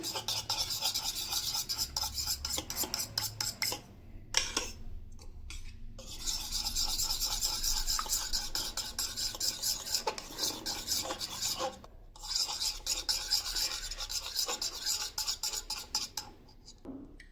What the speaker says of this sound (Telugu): ఇదంతా ఇప్పుడు మిక్స్ చేద్దాం